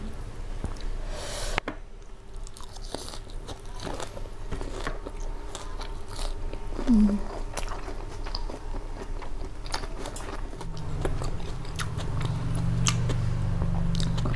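Raw phak khayong (Limnophila) herb is chewed close to the mic alongside a spicy Lao papaya-style salad, soft repeated crunchy bites and mastication over a low steady background, with no talking.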